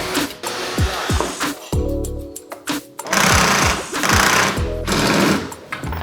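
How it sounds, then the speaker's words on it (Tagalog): A Bosch GSB 180 hammer drill bores into a wall in loud bursts of rapid hammering, starting and stopping repeatedly with whining motor ramps between runs. "since we're drilling into a wall, we need a hammer drill."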